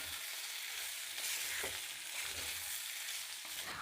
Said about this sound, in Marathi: दीड मिनटानंतर झाकण काढून हे बटाट्याचे काप पुन्हा एकदा परतून घ्यायचे आहेत